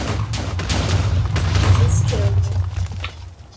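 A TNT explosion in a Minecraft-style game, one loud booming blast with a low rumble that carries on throughout, plus scattered thuds of further detonations and a faint voice underneath.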